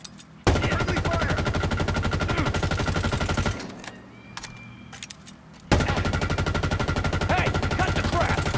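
Rapid automatic gunfire in the video game Halo Infinite, aimed at friendly marines: two long, loud sustained bursts split by a short pause with scattered shots and game noise between them.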